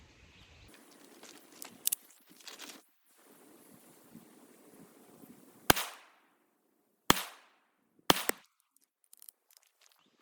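A Ruger 57 pistol fitted with a Gowutar Micro Dot fires several sharp, separate shots spaced a second or more apart, loud and close, over light outdoor wind noise.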